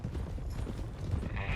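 Horse hooves clip-clop steadily in Red Dead Redemption 2, a loud, continuous rhythmic trot close by with rumbling low thuds and no talk over it.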